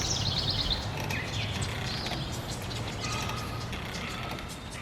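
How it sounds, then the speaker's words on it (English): Birds chirp outdoors beside a creek at a tiny-house resort in South Cairo, New York. Quick high twitters come early, then scattered calls sit over a steady rushing background of flowing water. "listen to the birds chirp"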